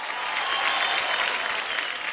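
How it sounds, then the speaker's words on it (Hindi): Loud, dense studio audience applause for contestant Aditya on Indian Idol, a continuous roar of many hands clapping close and even for about two seconds. "आदि के लिए बहुत जोर से तालियां बजनी चाहिए।"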